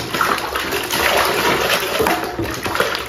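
Water pours and splashes steadily while dirty Ondel Ondel masks are washed, a loud, close continuous rush with no talking.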